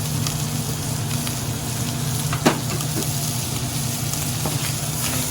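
Italian sausage, fennel and diced onion sizzle steadily in a pan, a dense, even frying hiss with a faint stir or clink midway.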